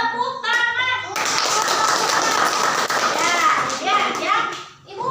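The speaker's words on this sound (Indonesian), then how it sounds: "Tepuk tangan untuk" Children in a Qur'an recitation class burst into rhythmic group hand-clapping, loud and close, with young voices chanting and talking before and around the claps.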